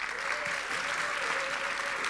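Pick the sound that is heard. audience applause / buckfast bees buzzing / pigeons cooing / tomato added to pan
audience applause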